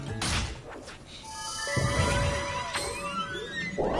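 Bright chimes, clinks and crash-like hits with shimmering tonal glints ring out in Astro Bot as shiny geometric objects are touched, several overlapping impacts over a steady game backdrop.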